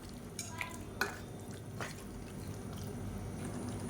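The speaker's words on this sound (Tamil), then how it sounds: "இந்த அளவுக்கு நல்லா வதக்கி விட்டுக்கலாம்" Mutton being sautéed for a mutton curry, stirred in a pan with a spoon: a few sharp scraping clinks over a quiet, steady sizzle, close by with no talking.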